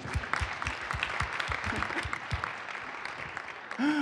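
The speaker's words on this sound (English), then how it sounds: "round of applause for Frank for being Frank" Audience clapping breaks out at a Mug Club gathering, a crowd of hands with a few distinct near claps standing out, then a voice starts speaking at the very end.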